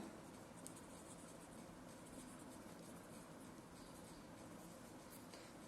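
Faint pen strokes while writing out a solution to a nonlinear partial differential equation, soft scratching against a quiet steady hiss.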